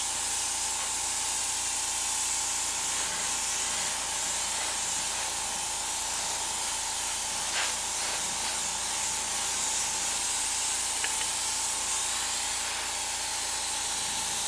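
An airbrush sprays Quicksilver Chrome paint in a continuous, even hiss of light coats onto a skull design, close and steady with no talk.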